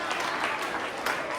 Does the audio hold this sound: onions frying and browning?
no